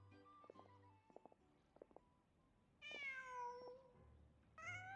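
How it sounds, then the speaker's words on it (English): A cat meows in the Genshin Impact video game, a pair of clear, drawn-out meows with soft game sound effects and faint background ambience before them. "Just a cat. Nothing else here."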